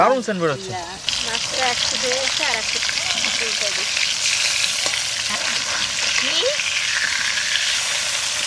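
Steady sizzling of topse fish frying in hot oil, loud and close, with voices talking briefly at the start over the crackle.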